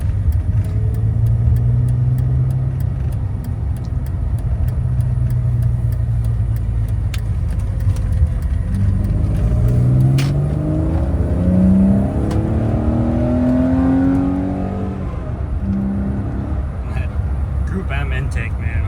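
BMW 330ci fitted with a Group M intake, engine revving and pulling up through rising pitch sweeps, with a steady loud drone inside the car and speech audible over parts of it.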